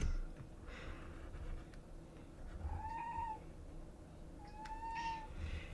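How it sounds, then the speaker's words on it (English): A pet cat named Moose meows twice in quick succession, moderately close and clear, with steady low room noise underneath and no talking. "the cat is audible"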